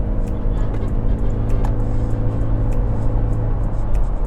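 A Toyota Fortuner changing lanes on a road, heard from inside the cabin as a steady low engine and road drone with faint ticking, continuous and fairly loud with no talking.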